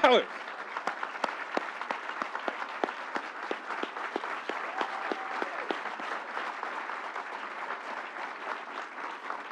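A standing audience at an event with New York Governor Hochul gives a sustained round of applause, steady dense clapping heard from a moderate distance with a short voice at the start.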